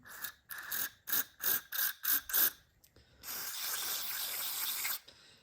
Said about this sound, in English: I'm just going to finish spraying some carb cleaner down the inside here